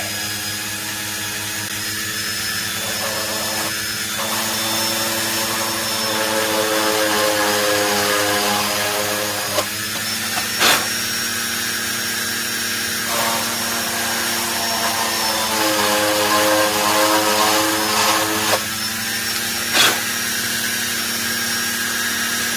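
A small power drill boring little holes into a model Messerschmitt Bf110C-4 aircraft, a steady close whine that rises and falls in pitch across several drilling bursts, with a few sharp clicks between them.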